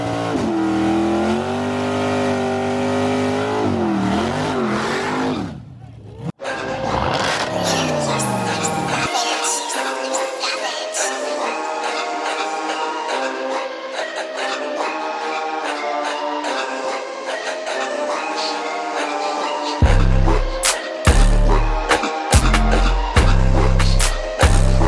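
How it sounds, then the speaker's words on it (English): Sustained loud engine revving rises and falls throughout, with sharp bursts of low rumble near the end; no talking. "Man, this car sound healthy"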